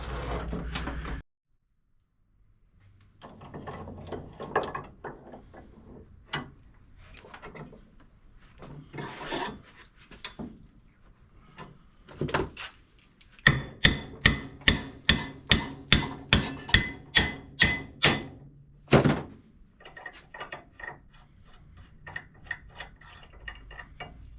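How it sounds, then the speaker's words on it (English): Metal knocking and hammering on a rusty Toro Timecutter zero-turn mower, with scattered scraping and rustling of rust flakes falling away, building into a fast run of sharp, evenly spaced strikes before tapering to lighter taps. "Hear all the rust falling off of here as we go."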